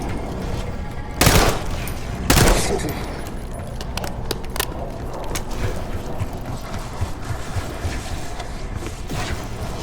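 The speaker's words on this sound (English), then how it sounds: "You hearing gunfire? Yeah. Sounds like it's coming from one of the lower floors." Gunfire in Call of Duty Black Ops 6 comes as two loud, sharp bursts early on, then scattered lighter shots and mechanical clicks over constant game ambience.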